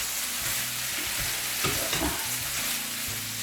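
Pepper steak mixture with cumin seed powder and oil being stirred in a pan, a steady sizzle of frying under scraping spoon strokes that come in a loose, irregular rhythm, close and fairly loud.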